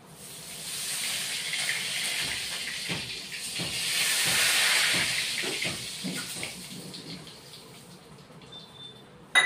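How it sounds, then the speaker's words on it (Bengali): Cooking oil goes into a pan for a Bengali mustard curry with bata fish, making a steady, soft hissing wash dotted with small clicks and no voices. "এখন এখানে আমি তেল ঢেলে নিয়েছি, তেলটা দিয়ে দিই"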